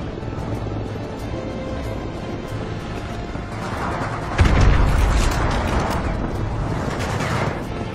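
Helicopter in the Call of Duty Modern Warfare 2 Remastered mission "The Only Easy Day Was Yesterday", a continuous rotor drone amid battle, swelling with a louder boom-like surge partway through.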